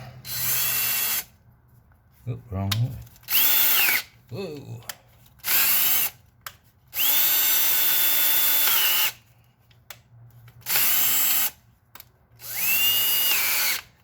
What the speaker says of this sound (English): let's run the drill through there again